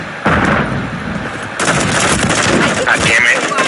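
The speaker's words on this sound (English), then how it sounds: "Where was I getting sniped at?" Rapid gunfire and sniper shots from a first-person shooter video game, loud and continuous bursts throughout with a player talking over the action.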